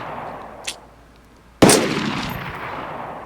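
Gunfire in DayZ strikes the player: a faint snap comes first, then one loud, sharp shot that rings out with a long, fading tail.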